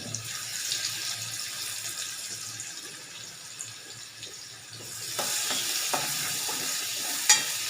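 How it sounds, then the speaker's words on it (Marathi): Crushed garlic dropped into hot oil for a Kolhapuri dahi kadhi tempering gives a steady close sizzle, growing louder and busier partway through, with scattered scraping stir clicks and one sharp knock near the end. "त्याच्यात आता तेल गरम झाले. त्याच्यात आपण लसूण टाकायचा फोडणीसाठी."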